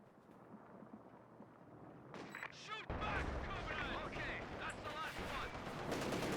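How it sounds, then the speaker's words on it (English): A creeping artillery barrage in Company of Heroes 2 pounds away, its dense, overlapping blasts and crackling gunfire growing louder and heavier partway through and rolling on without pause. "The creeping barrage."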